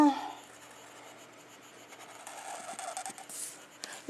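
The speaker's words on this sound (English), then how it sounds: "Now with my Sharpie, I'm going to just draw a nice little line around each heart to give it some dimension." A Sharpie marker drags across paper drawing outlines, giving soft, faint scratchy strokes that grow a little louder toward the end, with brief speech at the start.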